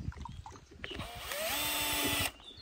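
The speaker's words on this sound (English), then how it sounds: "I open a bottle with a screw and a drill" A power drill whines as it drives a screw into a glass bottle: a short buzz, then a steady, rising motor drone for about a second before it cuts off abruptly, loud and close with no talk.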